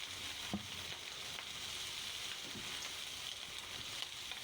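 Octopus sautéing in a pan gives a steady, even hiss and crackle of frying throughout, fairly faint, with a couple of soft knocks from the pan or utensil.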